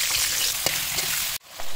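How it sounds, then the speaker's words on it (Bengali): Potatoes frying in hot oil for a Bengali mixed-vegetable labra give a steady, loud close-up sizzle with a couple of soft clinks, then the hiss drops out sharply near the end before resuming briefly. "আলুগুলোকেও ভেজে নিচ্ছি"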